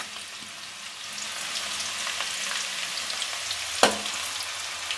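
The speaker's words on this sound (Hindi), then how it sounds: "अब ये गर्म हो चुका है, इसमें मैं ये कटा हुआ लहसुन डाल देती हूँ।" Chopped garlic frying in hot oil for veg fried rice, a steady close crackling sizzle with a brief sharper pop near the end, no voices.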